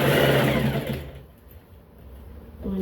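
Sewing machine running steadily while stitching a lace fabric hem for an Iro and Buba outfit, loud and continuous for about a second, then it slows and quiets before the motor picks up again at the end.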